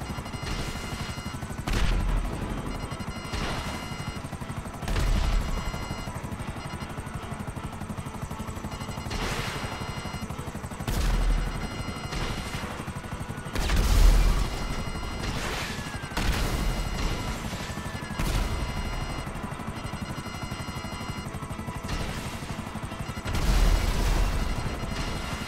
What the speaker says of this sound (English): Oh yeah, I'm in a helicopter.